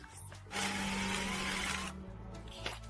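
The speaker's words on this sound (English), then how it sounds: "we'll drill a hole all the way through for this kind of support" A power drill bores a hole through a composite deck support, a steady whirring grind lasting over a second, close and fairly quiet, with softer tool sounds before and after.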